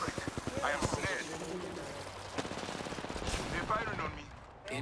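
Rapid video game gunfire crackles in close bursts from a tactical shooter match, mixed under constant talk from players throughout.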